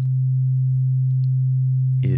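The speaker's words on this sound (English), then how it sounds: "We're adding together pure sine wave components." A pure synthesized sine tone from an additive synthesis patch holds steady and loud at one low pitch, with a faint higher partial above it, before a brief burst of speech cuts in at the end.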